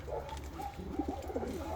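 Soft low cooing of Ottoman Hünkari Boğma pigeons against a steady background hum, a few gentle throaty calls over under two seconds.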